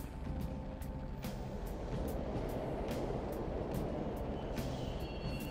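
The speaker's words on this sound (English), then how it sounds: "Trains are totally running." Subway trains run through an underground station in the video game Persona 5, a dense low rumble with rail clatter holding steady throughout, with no voices.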